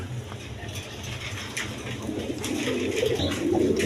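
Pigeons, including King pigeons, coo softly at a pigeon farm amid a busy background hum, low warbling calls rising slightly toward the end.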